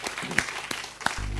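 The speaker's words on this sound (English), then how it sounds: "I give you a standing ovation because I'm clapping and standing at the same time" Brief applause at an orthopedic surgery graduation ceremony, a few sharp claps over a short burst of crowd clapping, with a steady tonal hum underneath near the end.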